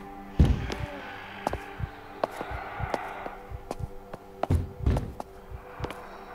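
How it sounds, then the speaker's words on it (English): Someone bangs on a door from the other side, a series of irregular heavy thumps and knocks. Some land hard and close together while others fall singly, with pauses in between. "Somebody's banging that door."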